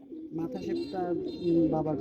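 A khaki pigeon coos in a few soft, rolling, throaty calls close by, with someone talking over them.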